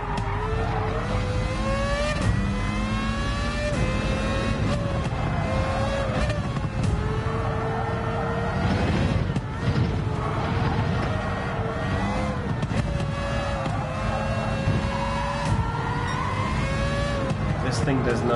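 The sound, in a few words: car engine revving while driving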